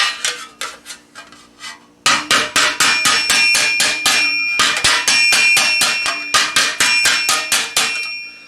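Rapid ringing hammer blows on sheet metal, hammer walking a steel greave plate into a slight curve; a short run, a pause, then long steady bursts of sharp, evenly spaced strikes, loud and close with no talk.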